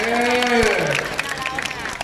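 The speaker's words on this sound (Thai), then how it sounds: "ปรบมือดังๆหน่อยครับ" Audience applause at a crocodile show during a fisheries day event: scattered crowd clapping sits under a loud amplified male announcer who keeps talking throughout.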